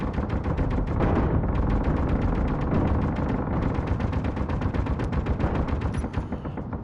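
Rapid, continuous automatic gunfire from the game Helios Underground, a dense rattling stream of shots that stays loud and close for the whole stretch, with no voices over it.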